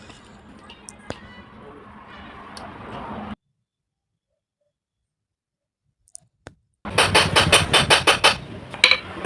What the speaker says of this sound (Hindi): केसिंग को खोलने के लिए हमें थोड़ा सा जो ग्रुप बना हुआ है उसमें हमें ठोकना होता है, तब जाके ये केसिंग जो है खोल जाता है।